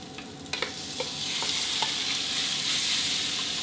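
Pork stir-frying in a pan with a garlic, coriander root and pepper paste over medium heat, a steady close sizzle broken by clattering spatula strokes and scrapes, with no talk.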